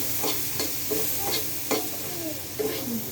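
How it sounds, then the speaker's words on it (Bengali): Chickpeas frying in a pan at home, a steady hiss of sizzling under repeated scraping strokes of a spoon as they are stirred, fairly close and moderately loud. "এই যে বুট ভাজতেছি"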